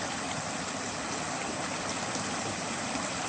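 Small mountain creek in Pisgah National Forest, North Carolina, flowing in a steady, even rush of water close by with no voices.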